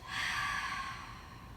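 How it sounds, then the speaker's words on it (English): One big exhale during yoga breathing, a soft close breathy rush that swells quickly and then slowly fades, heard alone. "Big exhale."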